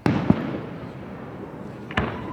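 Fourth of July town fireworks bursting outdoors: a loud boom at the start, another sharp crack moments later, a low rumble in between, then a final bang near the end.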